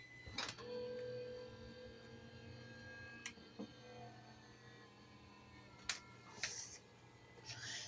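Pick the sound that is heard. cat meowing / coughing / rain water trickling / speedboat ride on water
cat meowing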